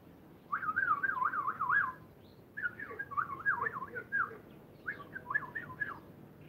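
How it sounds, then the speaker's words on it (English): Birds call outdoors in three bursts of warbling, whistled phrases that rise and fall in quick repeated loops, moderately near against a low background rumble, with no talking. "All the birds showed up."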